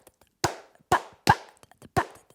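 Four sharp wooden clicks tap out a syncopated rumba clave rhythm, close and dry, with faint ticks between the accented hits.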